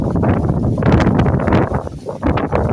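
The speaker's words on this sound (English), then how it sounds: "a very windy day, so I'm just waiting for the wind to calm a little bit." Strong wind gusts buffet the microphone in loud rumbling surges, close and continuous.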